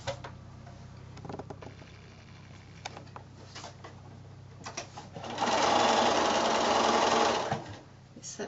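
A sewing machine stitches quilt four-patches together into a Road to Oklahoma block, running in one close, loud, continuous burst of about two seconds after quieter fabric handling and brief speech.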